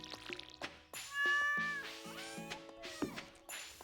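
Several cartoonish meows from a cat in the Stardew Valley farming game ring out loud and close over a light, tinkling game backdrop with watering sounds.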